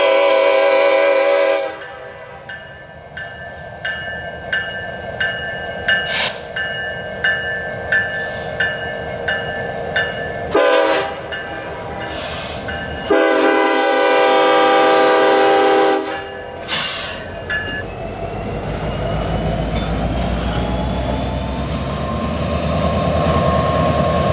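A loud, steady rumble of a Canadian National local freight train rolling past with repeated clanking and squealing wheels, and a long train horn blast sounding over it.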